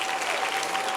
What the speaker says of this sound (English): let's give it up for another round of applause for our wonderful performers and our student